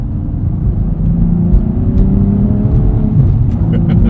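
Deep, throaty engine rumble of a 2016 Cadillac ATS-V Coupe with manual transmission building under acceleration, the exhaust valve opening above 2,000 RPM as the note swells slightly with rising revs, heard close from inside the car.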